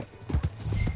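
Quick clip-clop of horse hooves from the video game Red Dead Redemption 2, several close steps in an uneven trotting rhythm, with no talking.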